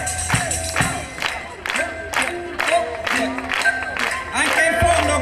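A live concert audience at an outdoor show in Tricase Porto claps and cheers, a broad crowd noise with rhythmic hand claps and shouting voices mixed throughout.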